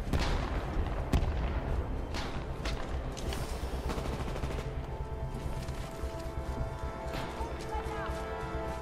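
Gunfire in the multiplayer shooter Titanfall 2, a busy mix of sharp shots and bursts with a few louder reports, running under steady talk from a player.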